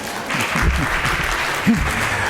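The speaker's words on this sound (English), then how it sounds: "I was going to allow the applause to go for him" Applause from a conference audience at a plenary session, steady clapping heard with a voice briefly cutting through beneath it.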